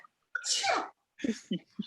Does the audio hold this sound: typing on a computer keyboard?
no